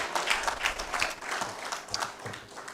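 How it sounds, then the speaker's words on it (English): Audience at an annual general meeting clapping, a fairly quiet, steady patter of many hands with slight swells, heard at a distance. "You clap for the person that gave me my first job"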